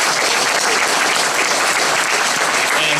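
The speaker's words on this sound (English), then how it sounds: "if we can give all our panelists here a nice round of applause" A convention panel audience at PAX Prime 2013 breaks into dense, loud applause, with many hands clapping continuously and evenly throughout.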